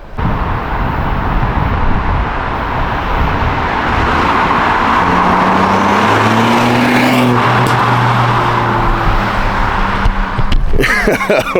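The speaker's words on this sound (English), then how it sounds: "I didn't know that Fords come out of the factory popping like that" A factory-exhaust 2022 Ford Puma ST runs loud and close, its engine droning steadily with rising revs, and crackles and pops from the exhaust show up near the end.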